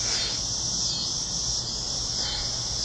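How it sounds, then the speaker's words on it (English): A cicada buzzes loudly and without a break, a dense, steady high-pitched drone that holds a constant level for the whole stretch, with no voices. "I guess the cicada is going nuts now."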